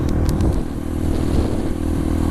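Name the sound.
Honda CRF supermoto motorcycle riding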